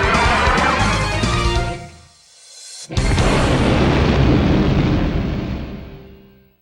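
Torpedo launches and explosions from the 1993 Irem submarine arcade game In the Hunt on Sega Saturn: loud booming blasts that fade into a short lull, then a sharp crack and another long, rumbling explosion that slowly dies away.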